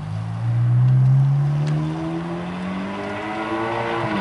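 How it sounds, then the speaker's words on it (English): Ferrari Scuderia fitted with a Capristo exhaust, heard at a private Ferrari meet, gives a loud, raspy rising rev that peaks early and then holds a droning, slightly falling engine note, fairly close and with no talking. "This Scuderia, I think, has a Capristo exhaust."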